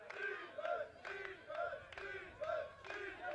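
Belgian supporters in the stands at a women's ultimate frisbee match at the European championships, chanting in a loud rhythmic pattern of repeated shouted calls, about one every half second, with a commentator speaking over them.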